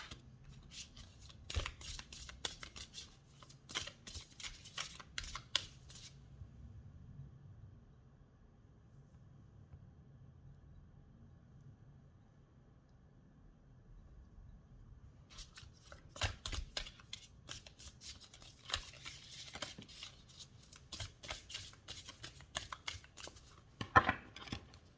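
Tarot cards are shuffled and drawn in quiet, close bursts of papery riffling and soft taps, a busy stretch at first, a long near-silent pause, then more shuffling and a sharp snap near the end.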